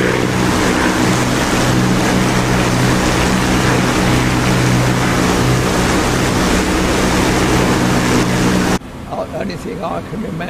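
A Spitfire engine in formation flight makes a loud, continuous broadband roar. It drops off abruptly near the end, leaving quieter background sound.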